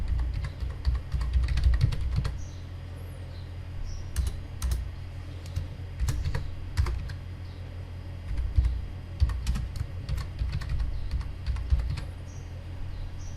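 Rapid, uneven clicks of typing on a computer keyboard, close and fairly quiet, continuing steadily with short pauses and no talking.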